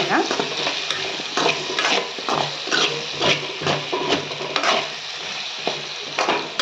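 Food with turmeric powder fries in a pan over a low flame, sizzling softly beneath repeated scraping strokes of a spoon being stirred through it.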